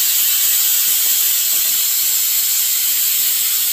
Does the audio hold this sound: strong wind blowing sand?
no